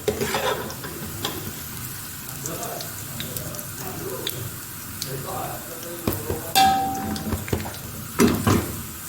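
Onions sizzle and crackle steadily in hot oil while browning for chicken biryani, with occasional stirring clinks of a utensil against the pan and faint voices nearby.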